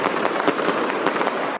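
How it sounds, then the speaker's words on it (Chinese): Firecrackers go off at a temple procession festival in Donggang, Pingtung, a loud, dense string of rapid cracks and pops that crackles continuously before cutting off abruptly. "鞭炮四射"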